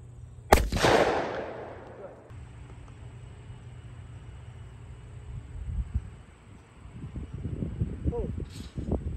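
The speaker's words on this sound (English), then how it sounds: "Then you're going to pull the trigger." A single loud shotgun blast at a skeet target on an outdoor range, a sharp crack with a short decaying tail, followed by quiet background and people talking nearby.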